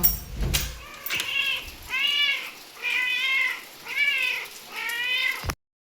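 A cat meows five times in a steady rhythm, close and clear, after a brief knock or rustle at the start, with no talking.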